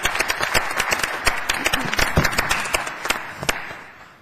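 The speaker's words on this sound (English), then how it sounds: "How about a big round of applause for the accomplishments of all these young people?" An audience at a school district board meeting gives student athletes a round of applause, a steady patter of many hands lasting several seconds, with a few sharp individual claps standing out.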